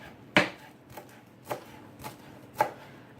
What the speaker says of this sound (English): I'm just going to roughly chop this up.